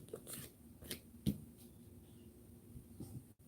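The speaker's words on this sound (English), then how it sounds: "You guys see me shuffle the deck." A deck of tarot cards is shuffled by hand during a live reading, giving soft, quiet riffling and flicking sounds with a few sharper taps, close by and faint.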